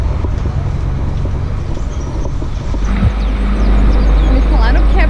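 Heavy trucks idle at a roadside fiscal checkpoint, a steady low engine rumble that swells louder partway through, with passing-traffic noise and people talking throughout.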